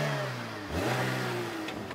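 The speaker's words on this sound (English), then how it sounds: "Michael Schumacher has stalled the Liana, but he's off now" A Suzuki Liana's engine is revved hard as the car pulls away, the pitch climbing steadily from a low drone to a strained, rising whine, close and continuous.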